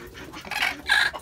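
A hen on a rooftop where ducks and chickens are kept gives two short bursts of clucking, close and fairly clear against a quiet background.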